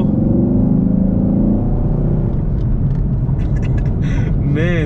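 A 2021 Chevrolet Camaro SS 1LE pulls hard in third gear on a backroad, its engine a loud, steady rumbling roar heard from inside the car, with rising whine and faint chatter near the end.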